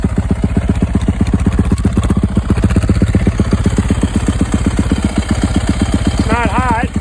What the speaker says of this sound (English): Let me starts right up, idles.